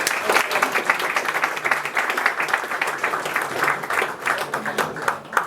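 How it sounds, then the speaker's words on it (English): An audience breaks into sustained applause, a dense, loud, steady wash of many hands clapping that continues throughout with slight swells. "let's give him a round of applause"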